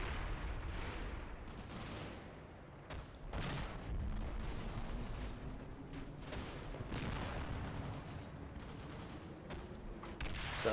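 Heavy machine gun and mortar fire rumbles through a war video game as a string of distant thuds and bursts over a constant low mechanical background, with no voices.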